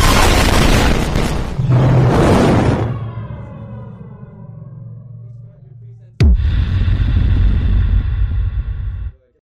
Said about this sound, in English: in a matter of seconds, I'll be shot out of this cannon